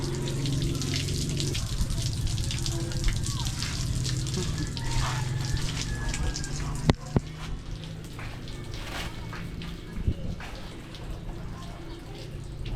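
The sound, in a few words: water running from a tap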